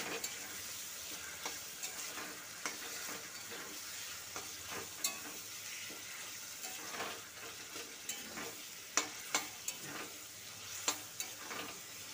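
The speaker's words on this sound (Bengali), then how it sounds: "মিডিয়াম আঁচে নেড়ে চেড়ে কষে নেব।" Taro greens stirred and sautéed over medium heat, a soft, fairly quiet sizzle broken by irregular clicks and scrapes of the spatula against the pan, no speech.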